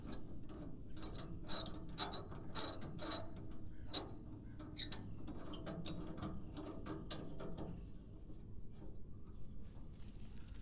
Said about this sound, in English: I'm going to tighten up and get the slack out of this chain.